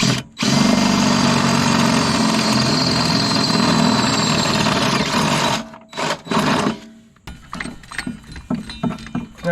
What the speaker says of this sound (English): We got to drill these 2 holes clear through right now